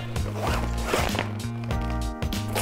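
A zipper on a Zempire deluxe camping stove carry bag is pulled open in several quick, close rasping strokes, with a steady low hum underneath.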